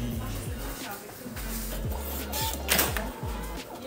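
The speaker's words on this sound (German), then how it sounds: "Jetzt kommt hier noch so ein Bon raus" Receipt printer inside a passport photo machine pushing out a ticket, with a steady mechanical whir and faint repeated clicks, fairly quiet against room noise.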